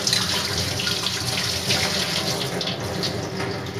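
Bitter gourds washed under a running kitchen tap, a steady close rush of water with splashing as the vegetables are handled, continuous with no talk.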